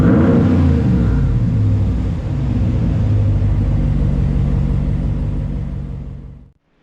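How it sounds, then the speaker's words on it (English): A 2019 Ram 1500 pickup with its muffler deleted revs up loudly nearby, a deep throaty rumble that rises, dips briefly, climbs again, then cuts off as the engine drops away to silence. "I'll rev it up a little bit."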